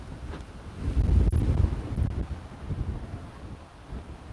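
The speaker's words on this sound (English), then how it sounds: "The wind is so strong right now, it almost blew my headset off." Strong wind gusts hit a headset microphone outdoors, producing a low, rumbling roar that swells loudly around the middle and then eases into a softer, fluttering buffet.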